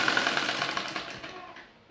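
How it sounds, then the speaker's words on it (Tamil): A sewing machine stitches sleeves onto a readymade kurti, a rapid close mechanical whir that runs steadily, then slows and fades at the end. "ரெண்டு ஸ்லீவையும் இப்போ ஸ்டிச் பண்ணி முடிச்சாச்சு"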